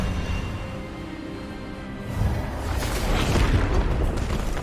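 Expelliarmus spell cast in Hogwarts Legacy, a rumbling magical burst that swells after a brief lead-in and holds loud and full to the end.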